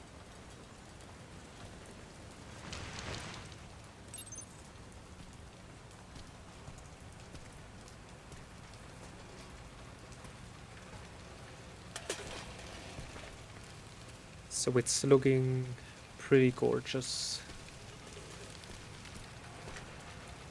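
Steady rainfall hisses through a city street in the video game RE Requiem, a soft continuous patter with a few louder bursts of movement and impacts near the end, while someone briefly speaks over it.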